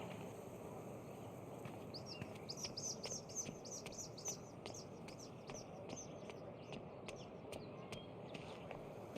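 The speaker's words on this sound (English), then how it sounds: "That might be our feathered friend." A bird in Life is Strange: True Colors chirps in a quick repeated series of high, thin tweets, faint against a soft outdoor ambience, with a few scattered calls afterward.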